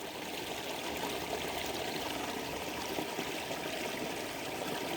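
Water flows steadily along a small stream in a rice field, a continuous close trickle and babble with no breaks and no voices.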